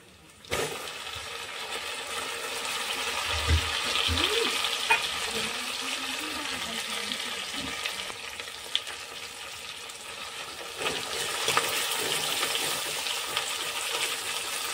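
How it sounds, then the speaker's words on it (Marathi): Tomatoes drop into hot oil in a pan over a medium gas flame for a butter chicken masala, giving a steady close sizzle and frying hiss with a few stirring scrapes, a brief louder burst near the start and no talking. "आता आपण गॅसचा जो फ्लो आहे तो मीडियम वरती ठेवणार आहोत आणि त्यामध्ये आपण आता जे आपण टोमॅटो घेतले ते आपण ऍड करणार आहोत"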